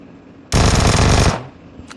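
A sustained burst of automatic gunfire in PUBG Mobile, loud and close, rattling continuously for under a second before cutting off into a brief fading tail.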